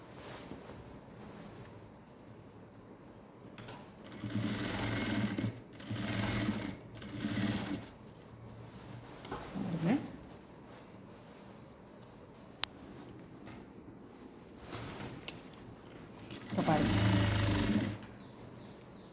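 A domestic sewing machine stitches the pleats of a frilled gown in several short bursts of rapid whirring, the longest near the end, separated by quiet pauses while the fabric is adjusted.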